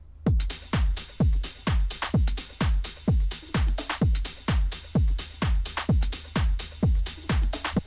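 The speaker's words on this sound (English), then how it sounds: "so altogether the drum loop should sound something like this." Tech house drum loop with a top loop layered over it: a steady four-on-the-floor kick with crisp hats and percussion, punchy and loud, looping evenly with no voices.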